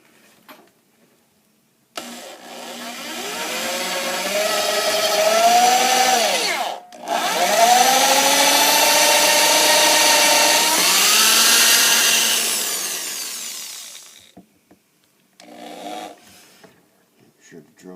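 A power drill whines steadily as it bores into the wood of a Gibson ES-345 guitar for a stop bar tailpiece, running in two long stretches with a short pause between, then spinning down.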